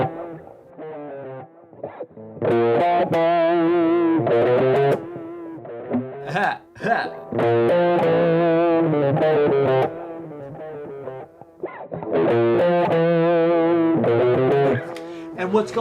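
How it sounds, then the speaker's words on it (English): Bowser's theme from Paper Mario: The Thousand-Year Door, a buzzy, gritty melody played in repeated phrases with short pauses between, loud and close with brief gaps. "Bowser's theme in this game sounds something like this"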